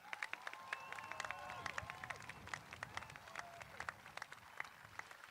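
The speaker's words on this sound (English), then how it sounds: "give them one more big round of applause" Applause from the audience at a college commencement ceremony, continuous clapping with sharp individual claps standing out, heard faintly and at a distance with crowd voices and whistle-like tones mixed in.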